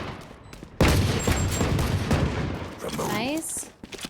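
Rapid video-game gunfire in a tactical shooter match, bursts of shots running loud and close across the clip, with players chattering over the shooting.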